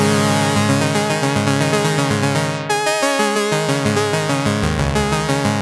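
A loud Korg PolySix synthesizer plays huge, deep bass tones from a sub-oscillator under a dense, buzzing chord, with notes shifting and a brief drop midway.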